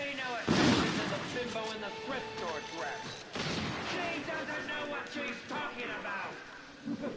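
Grenade blasts in a video game: two heavy bursts about three seconds apart, each followed by rattling, clattering debris, with voices and game sounds running underneath.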